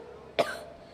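A woman gives a single short, sharp cough, close and fairly loud, followed by a brief raspy tail, in a quiet indoor setting.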